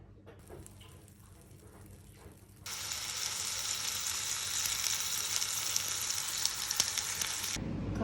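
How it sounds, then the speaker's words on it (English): Steak hits a hot pan and sets off a loud, dense, continuous sizzle that runs for several seconds before cutting off; faint handling noises come before it, and nobody speaks. "I'm gonna fry it right now"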